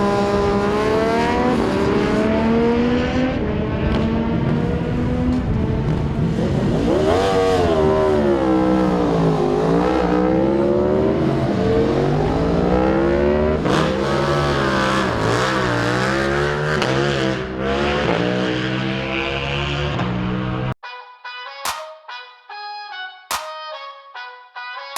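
A KTM RC 8C racing motorcycle at full throttle on a track, its engine screaming through rising and falling revs and gear shifts for most of the stretch, loud and close from onboard, then cutting to quieter electronic tones at the end.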